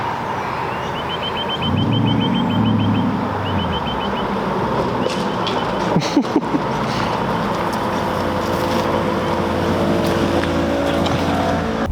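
A Toyota Tundra 1794 Edition with a quad cam 5.7 V8 and custom exhaust drones loudly and steadily close by, its deep exhaust note rising briefly near the start as the engine revs.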